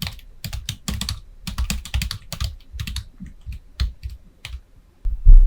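Someone types text on a computer keyboard, close and crisp, with irregular bursts of key clicks separated by short pauses and no speech.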